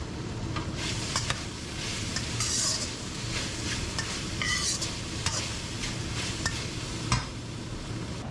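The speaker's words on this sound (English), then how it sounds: "And just stir it in." Sauce and black pepper stirred into thinly sliced food in a sizzling pan, with a steady loud frying hiss throughout and repeated scrapes and clinks of a utensil against the pan.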